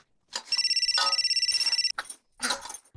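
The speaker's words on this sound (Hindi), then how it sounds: "जरा देखो तो किसका फोन है।" A telephone rings in a family home, a rapid pulsed electronic ring sounding loud and close for about a second and a half before it cuts off, followed by a few brief, indistinct sounds.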